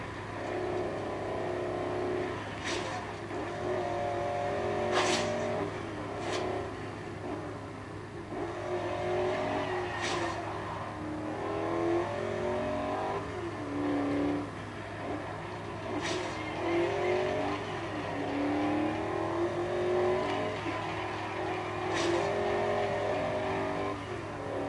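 Race car engines in Forza Horizon 2 rev and roar continuously, rising and falling through gear changes with occasional sharp tire squeals and clicks, loud and close throughout with no talking.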